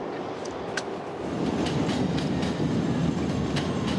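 A Chicago L train passes the Wellington stop, rolling close by in a loud, steady rush with rhythmic clickety-clack of wheels over rail joints and faint metallic squeals, rising slightly as it goes by.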